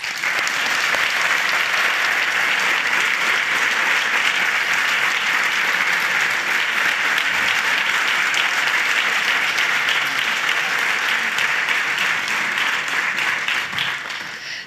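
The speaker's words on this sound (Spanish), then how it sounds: "Para todos ellos, este fuertísimo aplauso." Sustained, loud applause from an audience at the presentation of a 2020 Holy Week programme, dense clapping filling the whole span without a break before tapering slightly at the end.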